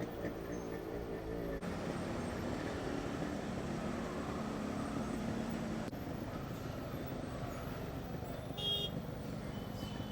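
Steady road traffic rumbles continuously beside a road work site, with passing vehicles, engine drone and a brief horn toot near the end.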